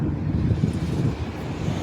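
Strong wind buffets the microphone, a continuous low rumbling gust with no voices.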